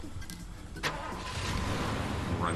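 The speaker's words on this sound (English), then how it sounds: "Run you over with your own car." A car engine in Far Cry 2 cranks and catches, a short starter whir rising into a steady mid-pitched running engine, close and fairly loud, with no talk over it.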